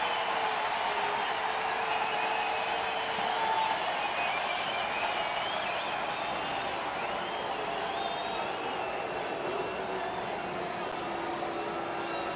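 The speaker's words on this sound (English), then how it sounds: "Crowd coming to life here at GABP." Baseball crowd at Great American Ball Park in Cincinnati, a steady, distant roar of cheering and clapping spread through the stands, swelling slightly and holding without a break.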